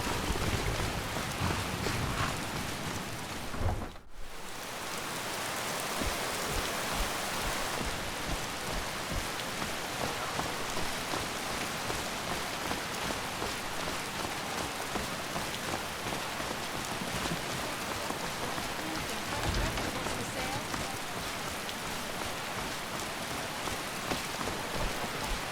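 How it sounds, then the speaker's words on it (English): Steady, dense rainfall in the Skyrim video game, a continuous close hiss of drops that briefly cuts out near the start and then pours on unchanged. "Not many people out here with the rain."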